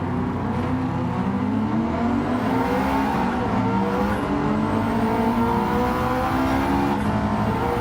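Race car engines in a racing video game, a continuous loud whine that rises and falls as the throttle is fed in gently, with other cars buzzing around and a hint of tire squeal.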